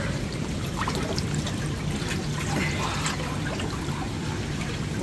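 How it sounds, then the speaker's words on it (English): Water in a jungle river in Phuket, Thailand flows steadily with a continuous rushing, trickling wash, fairly close and even in level throughout. "Wow, jungle river."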